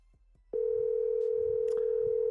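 Steady loud telephone ringback tone of an outgoing call to a former Ohio State wide receiver coach, holding unbroken after a brief quiet start with faint background noise.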